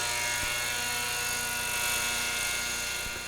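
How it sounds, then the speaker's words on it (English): Radio-controlled model helicopters fly nearby, making a steady, loud whirring drone with a constant rotor buzz that holds evenly throughout, with no voices. "some fellas are combining sports as they're using RC helicopters to do a little fishing"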